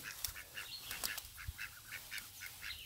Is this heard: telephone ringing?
no